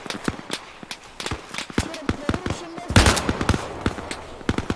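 Gunfire in Arma Reforger, a military video game, comes as rapid sharp bursts and single shots in close succession during an urban combat firefight, with a voice shouting briefly amid the shooting.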